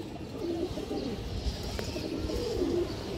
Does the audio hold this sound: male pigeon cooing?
yes